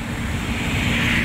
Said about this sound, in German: Hier ist er. Der Wasserfall von Nerd. Genießt die stürmischen Fluten.